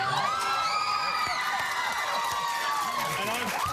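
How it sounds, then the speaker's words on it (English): Studio audience at an Australian evening television talk show cheering and squealing for a film star guest, a dense continuous roar of high-pitched shrieks and whoops from a large crowd, loud and sustained throughout. "I gotta say, that's an impressive crowd."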